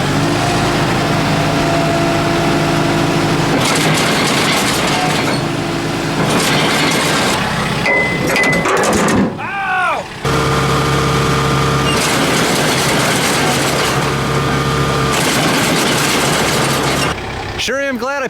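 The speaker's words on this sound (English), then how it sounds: "I'm gonna rev up the throttle a little bit." A hay baler's engine runs with its throttle revved up, a loud steady drone close by, briefly dipping and interrupted by clanking before resuming, while people talk over it.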